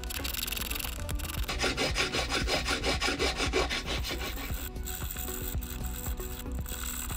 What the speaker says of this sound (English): One of the coarser files works well to pull back the edges of the workpiece